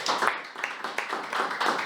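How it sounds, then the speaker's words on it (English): Members at a small Toastmasters club meeting clap, thin uneven applause from only a few people, close and steady with rapid irregular claps throughout. "let's give a huge round of applause to all of us"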